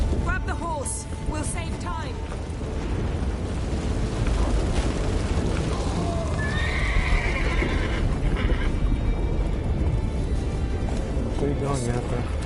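Horse neighing and whinnying in The Witcher 3 during a chaotic battle on a disintegrating ship, with hoofbeats, booms and dialogue running over a loud, dense background.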